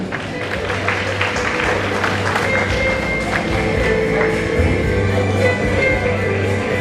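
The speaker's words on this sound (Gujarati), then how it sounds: "તે લોકો માટે તાળી થઈ જાય." An audience claps at a charitable trust's award ceremony in Surat. The steady, dense applause fills the hall at an even level throughout, with a low background hum underneath.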